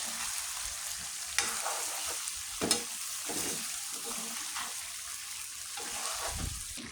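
Tempering (baghar) frying in a pan for a beef and vegetable curry, a steady bright sizzle and crackle with a couple of sharp pops and some stirring scrapes, close and continuous.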